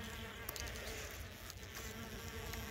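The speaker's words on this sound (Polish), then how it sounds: "to może się za chwilkę powygryza więcej pszczół" Mason bees emerging from their cocoons in sunlight give a faint, steady insect buzz, close but quiet, with a few soft ticks and knocks mixed in.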